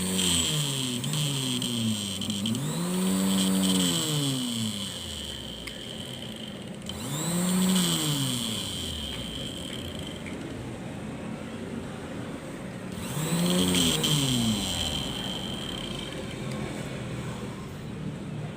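A rewound sewing machine motor runs steadily with a loud, close whine. Its pitch sweeps up and falls back in three long speed surges over a constant buzzing hum. No one speaks.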